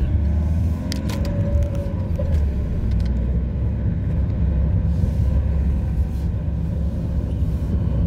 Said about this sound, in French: on met un coup d'accélérateur parce que c'est de la voie rapide